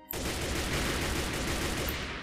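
Dense, rapid gunfire in Minecraft crackles nonstop for about two seconds, a dull burst of overlapping shots at moderate volume.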